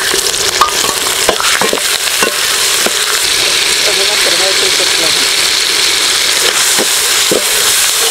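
Tomato sizzling in hot oil with onion, cumin, dried red chili and curry leaves for a cucumber sambar, a steady loud frying hiss throughout with occasional stirring clicks, no talk.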